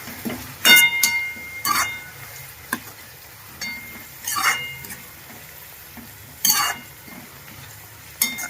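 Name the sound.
sautéing garlic and onion in a pan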